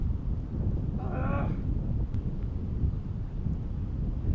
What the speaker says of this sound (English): You can see the wind blowing.